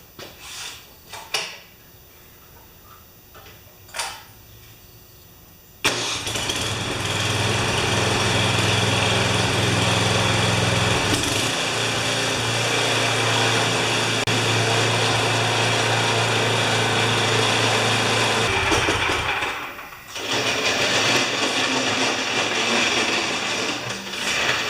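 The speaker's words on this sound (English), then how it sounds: "I don't want to jinx myself, but that's probably one of the nicest running snowblowers I've had in here." A Snowking snowblower engine, fitted with bent augers, starts after a few faint knocks and runs loudly and steadily near at hand, a continuous droning roar that holds for most of the stretch, briefly dipping once before resuming.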